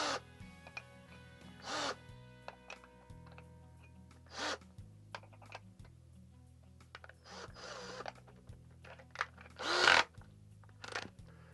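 Power drill fitted with a 13/16 inch bit boring a hole for a shower fitting, heard as several short whirring bursts of the motor with pauses between and handling clicks, the last burst loudest, with no talk.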